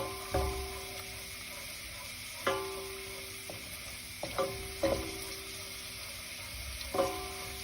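Garlic fries in oil in a pan for tarhana soup, giving a soft, steady sizzle broken by several sharp clinks and scrapes of a spoon stirring, fairly quiet and close.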